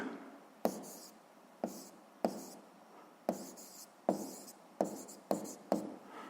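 Handwriting on paper during a 7th-grade physics exercise, the pen scratching in a series of short strokes, each starting with a sharp tap and fading, spaced roughly a second apart, close and quiet with no speech.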